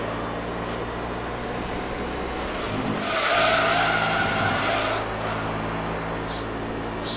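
A four-wheel-drive race car in Gran Turismo 3: A-Spec slides through the final corner, with a steady engine drone under tire squeal that swells in the middle and then eases off.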